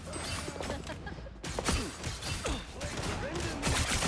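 Rapid gunfire in the hero shooter Marvel Rivals, dense bursts of shots and whooshing effects in a loud, busy fight that runs continuously for a few seconds amid other game noise.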